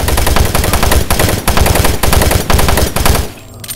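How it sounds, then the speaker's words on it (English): Rapid automatic gunfire in co-op play of the Doom 3 video game, loud and close, firing in several sustained bursts with brief pauses before cutting out near the end. "Suppressing fire."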